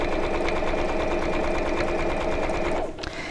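A sewing machine runs steadily while stitching around the curved flap of a simple bag, a continuous close motor hum that stops abruptly near the end.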